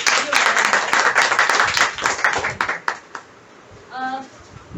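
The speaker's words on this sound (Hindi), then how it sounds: "सर के लिए तालियां होनी चाहिए" Audience applause at a business talk in a herbal store, dense and loud for about three seconds, then tapering into a few scattered claps before dying away, with a brief voice near the end.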